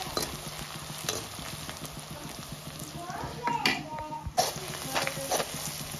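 Onions fry in a pan, a low sizzle under frequent scraping and stirring of the spatula, with a voice speaking intermittently over the cooking.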